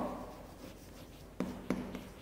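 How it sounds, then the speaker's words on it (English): A teacher writing on a classroom board, producing quiet, steady scratching strokes with a few sharper taps as the writing implement meets the surface, alone without talk. "So now here again I am writing"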